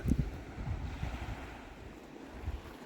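Wind gusting across an open beach during kite fishing on the UK coast, a steady mid-level rush with low buffeting against the microphone and surf washing faintly underneath, no voices.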